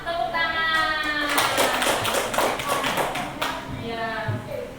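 A classroom of children clapping their hands together in a burst of overlapping claps, mixed with voices and harmonic singing-like speech throughout.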